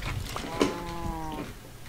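A Minecraft cow lets out a single drawn-out, wavering moo lasting about a second, moderately loud over faint game background noise, with no one speaking.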